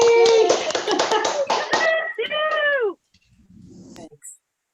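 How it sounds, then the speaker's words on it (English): Online meeting participants clap and cheer together in a dense, lively burst of applause with whoops over it, then a brief quiet and a few scattered voices. "Can we all unmute and do some applause for Sue?"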